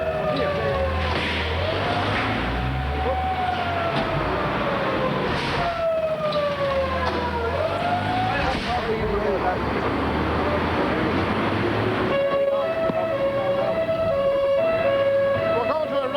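Wailing emergency vehicle sirens sweep up and down as fire engines and ambulances race to a road traffic accident, a steady two-tone siren taking over near the end, loud and close amid constant road and engine noise.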